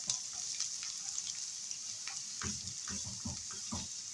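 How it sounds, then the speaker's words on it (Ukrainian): Onion and carrot strips fry in a pan for a cabbage soup, a steady soft sizzle under a few scraping stirs and light clatter in the second half. "Цибулька підсмажила і додаємо моркву"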